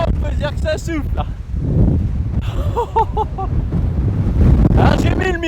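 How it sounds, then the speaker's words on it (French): Heavy wind buffets the microphone in low rumbling gusts, with voices talking intermittently underneath. "Alors là, il y a du vent."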